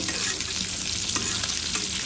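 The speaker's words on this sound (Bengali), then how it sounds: "আর দেখুন এখানে আমার মাংসগুলো ভাজা হয়ে যাচ্ছে।" Pieces of chicken fry in a hot pan and are stirred, a loud continuous close sizzle with faint scraping strokes running through it.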